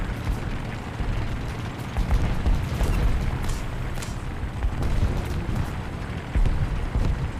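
AI machine gun nest firing in War Thunder's Great War event, rapid crackling bursts mixed with dull booms and rumbling battle noise that run without a break, close and loud throughout.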